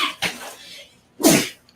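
A single loud sneeze close by during a tabletop game session: a short intake burst, then a forceful explosive release.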